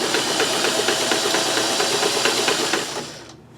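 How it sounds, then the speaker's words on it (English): A sewing machine stitches over pink thread on fabric ribbon strips for a junk journal. It makes a steady, close whir with rapid rhythmic needle pulses, then winds down and stops at the end. "I'm just gonna sew on top of this pink thread"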